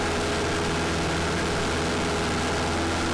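A small airplane engine drones steadily in flight, heard from inside the cabin as a loud, constant low hum without a break.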